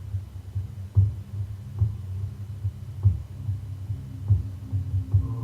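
A slow, soft heartbeat thumps through a guided meditation, each low double pulse repeating steadily over a faint background hum, with no one talking.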